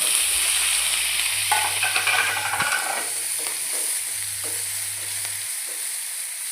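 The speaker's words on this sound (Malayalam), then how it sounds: "നല്ലോണം ഒന്ന് പച്ചമണം മാറുന്ന വരെ വഴറ്റിയെടുക്കാം" Chopped ginger, garlic and green chili sautéing in a pan for paneer masala, a steady close sizzle with scraping stir strokes and a low background hum, no talk.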